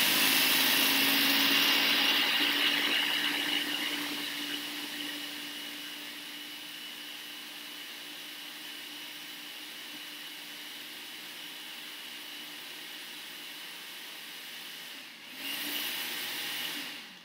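A blender pulses a cooled, reduced mushroom and wine mixture, whirring loudly for the first few seconds, then settling into a steadier, quieter grind before a brief louder burst near the end.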